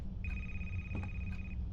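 A telephone rings in the video game A Place Forbidden, a steady electronic ring tone sustained for over a second, with faint clicks at its start and end over a low background hum.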